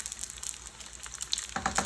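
Wontons frying in oil for won-ton soup and pot stickers, a continuous crackling sizzle with scattered pops that grows busier toward the end, heard alone without talk.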